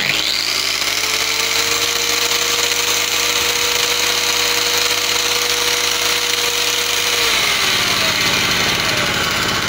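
A Gamma 950 W generator drones steadily with a loud whining hum while powering a 500 W angle grinder, the pitch shifting as the load changes near the end; no speech.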